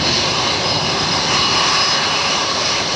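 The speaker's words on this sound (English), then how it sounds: "power up those IAE V2533 motors" A Spirit Airlines jet spools up its IAE V2533 engines for takeoff at Fort Lauderdale, a loud, steady broadband roar that holds evenly for the whole stretch with no voices.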